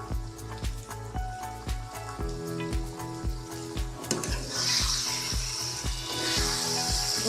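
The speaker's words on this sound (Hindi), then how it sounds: "अभी इसमें टमाटर डालेंगे" Tomatoes go into a hot frying pan for baingan bharta, sizzling and spattering loudly alongside rhythmic stirring and scraping taps, with background music playing underneath.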